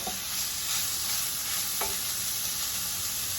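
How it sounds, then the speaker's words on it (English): Chicken sizzles in a hot skillet with avocado oil, a loud, steady hiss with a couple of sharp clinks of a utensil against the pan, and no talking. "So my skillet is hot. I'm gonna put my chicken in, and we're just gonna heat this through."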